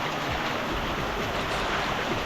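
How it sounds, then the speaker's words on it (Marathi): Forceful stream water rushing during a monsoon jungle trek on the Panhala–Pavankhind route, a close, steady roar of churning flow with no pauses. "पाण्याचा फोर्स बघा फोर्सफुल येत आहे एकदम"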